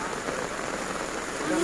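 Rain falls steadily at an outdoor market, a dense even hiss of drops on surfaces all around with a faint voice underneath.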